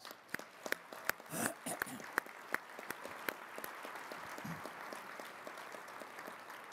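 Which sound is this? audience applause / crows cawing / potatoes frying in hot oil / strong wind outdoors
audience applause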